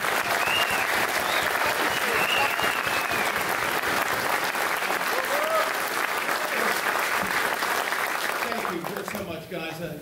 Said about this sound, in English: let's give our organizers just a great hand